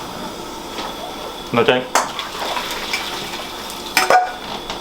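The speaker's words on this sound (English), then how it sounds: "now what we'll do is drain the potatoes off, they're ready to go" Cooked potatoes being drained from a pan: close metallic pan clatter and scraping in a few short bursts, with a brief voice speaking partway through.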